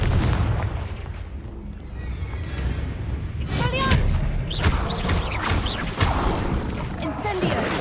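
Blasting spell explosions from the Hogwarts Legacy video game sound as loud booming bursts and thuds, several in quick succession, set against a dense rumbling backdrop of game action.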